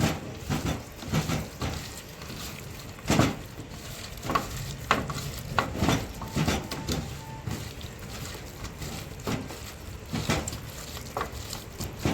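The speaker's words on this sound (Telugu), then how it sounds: "ఎగ్ వేసుకున్నాక మంచిగా కలుపుకోవాలి" Chicken pieces stirred by hand in a bowl after an egg is added: soft wet squelching and pattering in a repeated rhythm, close and fairly quiet, with no voices.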